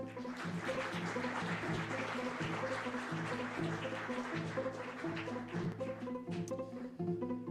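Sustained applause from an audience at a game jam presentation event for a team that just presented, a steady dense wash of clapping lasting several seconds, loud and continuous.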